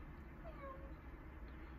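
A cat gives a short, faint meow in the middle of a quiet room with background hum, during a calm socialization session with a shy cat.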